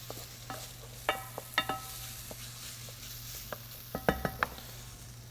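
Vegetables sweating in bacon fat and butter in a pan, a soft steady sizzle with a low hum beneath and several sharp clinks and taps of utensils against the pan, fairly quiet and with no talking.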